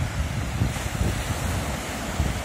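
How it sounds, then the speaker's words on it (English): Waves wash steadily onto the shore at East Harbor State Park in Marblehead, Ohio, on an overcast day, a continuous broad surf roar with gusting wind buffeting the microphone and no voices. "Look at those waves."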